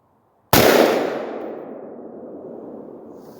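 A single loud, sharp gunshot from an AR-15 rifle fired one-handed outdoors cracks once and then trails off in a long fading echo, with no talking.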